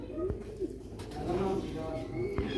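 Soft, low pigeon coos repeat a few times nearby, with some faint background noise and brief clicks.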